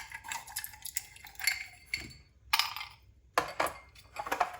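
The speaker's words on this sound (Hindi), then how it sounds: "अब इसके अंदर डाल देंगे हम बर्फ" Ice pieces dropped into glasses for a cold summer fruit drink, a series of close clinks and rattling knocks in irregular bursts with short pauses between, no talk.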